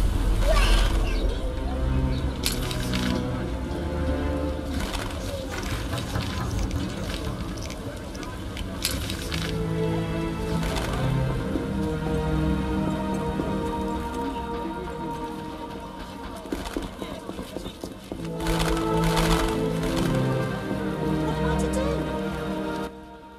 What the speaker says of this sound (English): The scourge of the lords, this rain.